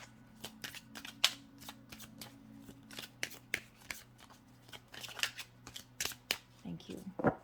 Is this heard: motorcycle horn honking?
no